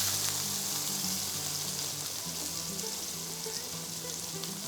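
Sous vide pork shoulder sears in a hot pan, giving a quiet, even sizzle that runs unbroken throughout over a faint tonal hum.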